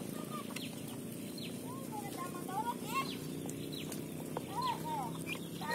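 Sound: muscovy ducklings feeding

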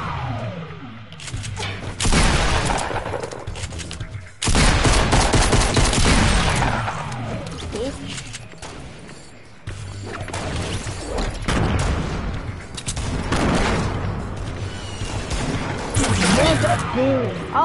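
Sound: gunfire from a video game

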